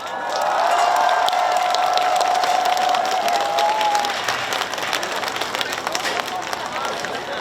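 A festival crowd applauds and cheers, dense clapping and shouts filling the space, with one long whistle-like cry rising over it early on before the noise slowly thins out toward the end.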